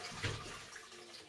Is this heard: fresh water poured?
yes